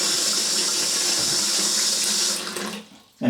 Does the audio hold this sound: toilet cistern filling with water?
yes